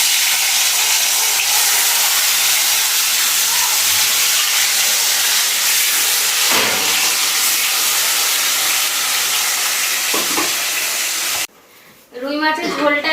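Loud steady hiss and sizzle of rohu fish frying in hot oil in a village kitchen, filling most of the clip before cutting off abruptly, with a brief quieter patch at the end.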